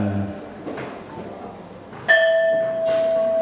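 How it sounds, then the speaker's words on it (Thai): A single temple bell is struck and rings out with a clear sustained tone, struck again shortly after, following a quiet stretch with faint background noise. "เสียงระฆังดังกังวานเป็นสัญญาณบอกให้ทราบ"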